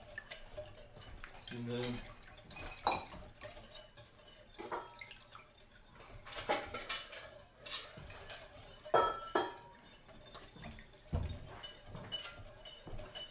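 A whisk stirs waffle batter in a bowl, giving irregular clinks and scraping taps against the side at close range, with a short spoken phrase near the start.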